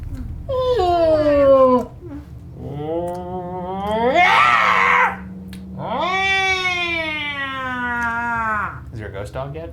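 A man imitates a cat with his voice, making three drawn-out, wavering cat-like cries in close succession, loud and near, with a low steady hum underneath.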